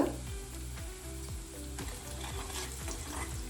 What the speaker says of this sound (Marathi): फोडणीमध्ये जिरे आणि मोहरी थोडासा ठेचून घेते